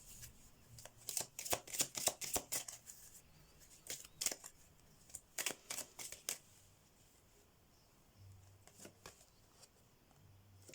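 Oracle cards being shuffled, bursts of rapid riffling flicks in quick clusters separated by pauses, close and fairly quiet, with a low hum in places.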